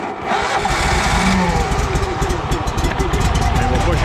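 A Barreto 30-SG stump grinder's engine is pull-started with the choke out and the throttle at about half, and it catches at once and settles into a loud, steady rumbling run that fills the whole stretch.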